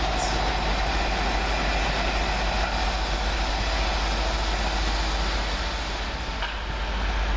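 Diesel train 43310, leading a King's Cross to Aberdeen service, departs Doncaster station with a loud, steady engine and wheel rumble that fills the whole stretch and never lets up.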